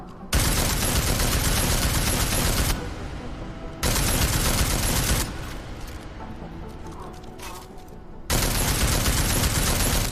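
Three long sustained bursts of rapid weapon fire in a video game, each lasting a couple of seconds with quieter gaps and mechanical clatter between them, loud and close.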